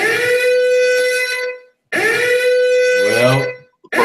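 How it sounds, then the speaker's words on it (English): A loud electronic timer alarm signals time running out. It sounds as two long harsh blaring tones separated by a short silence, with the second tone wavering near its end before a brief final blip. "That was the alarm because we got out of time."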